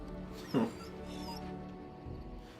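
A dog whimpers in Dragon Age: Origins, a single short, soft whine close by, over a steady low hum of game ambience.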